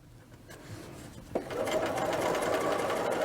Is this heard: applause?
no